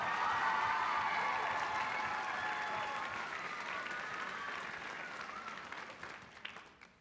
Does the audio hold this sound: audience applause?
yes